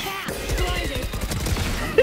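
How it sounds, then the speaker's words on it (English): Rapid automatic gunfire in Valorant, a player spraying bullets into the floor, a fast regular burst of shots running nearly the whole time with voices chattering over it. "She's shooting the fucking floor."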